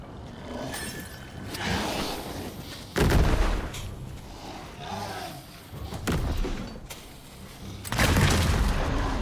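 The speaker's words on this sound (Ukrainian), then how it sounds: "О, я в гранату попав!" Heavy explosive blasts and thuds in the dark-fantasy action game Valor Mortis, several loud booms spaced a few seconds apart over ongoing game noise, with a voice talking faintly.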